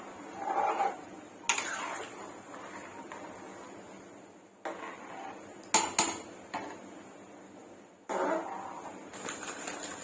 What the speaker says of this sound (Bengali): খিচুড়িতে আমি লবণ দিচ্ছি, মিশিয়ে নিচ্ছি।